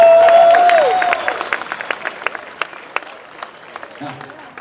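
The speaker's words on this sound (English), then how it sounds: "Give them one more round of applause." A gliding tonal sound opens, then a live-show audience gives a round of applause. Scattered claps and cheers under a crowd murmur thin out toward the end, where a voice briefly speaks.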